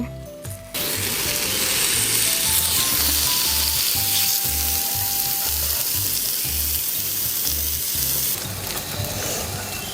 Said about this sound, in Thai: นี่คือหมูกระทะของเรานะทุกคน